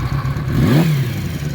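A late-1970s Benelli 250 Quattro four-cylinder motorcycle, already warmed up, gives a single quick rev that rises and falls back to a steady idle, close and loud.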